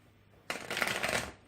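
A deck of 72 Names cards shuffled indoors: a quiet pause, then a crisp riffle lasting about a second and ending in a short final snap.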